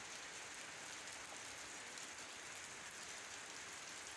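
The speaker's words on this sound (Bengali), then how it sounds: "সারাদিন প্রচুর বৃষ্টি কোনো সময় একটু সারে নাই" Heavy rain pours steadily, a dense, even hiss of drops hitting surfaces with no pauses and no voices.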